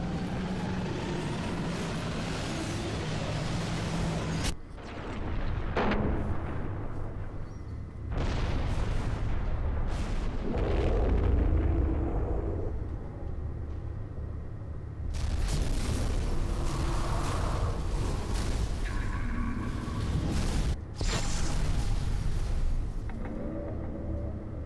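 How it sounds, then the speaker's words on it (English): Rockets blowing up at the Kopenick launch site in Sniper Elite V2, heard as heavy booming blasts and rumbling, loud and sustained, with brief breaks between bursts of explosions. "And the rockets should be blowing up."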